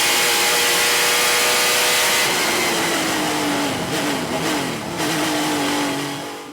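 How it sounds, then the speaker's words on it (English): A 1994 Porsche 911 race car with a special sport engine revs hard and close, a loud sustained high-pitched scream that rises and falls with throttle before easing off at the end. "Got a special Sport Peter Dawe's engine in the car, and it is just an absolute screamer."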